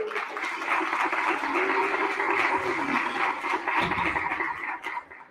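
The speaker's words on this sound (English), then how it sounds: "If you want to give her a round of applause." An audience at a Juneteenth and Men's Health Month celebration applauds Ms. Ebony Parker, a steady wash of many hands clapping together for about five seconds before fading out.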